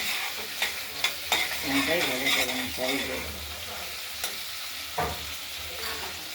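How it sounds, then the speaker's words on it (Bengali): Sliced onion frying in fish oil in a pan while preparing a mixed vegetable curry, a steady close sizzle with scraping stirs and a few sharp utensil clicks against the pan. "পেঁয়াজটা দিয়ে দিলাম। পেঁয়াজটাকে আমরা একটু ভাজা ভাজা করে নেবো প্রথমে।"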